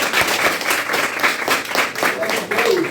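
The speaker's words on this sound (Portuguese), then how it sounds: "Se você está feliz, aplaude a Jesus." A congregation claps in church at a Portuguese-language service, loud, rhythmic hand claps in a steady beat with voices mixed in.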